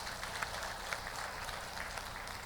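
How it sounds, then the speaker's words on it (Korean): A church congregation at a Wednesday worship service gives encouraging applause, a dense, steady wash of many hands clapping together at moderate distance with no talk over it. "격려 박수 한번 하겠습니다."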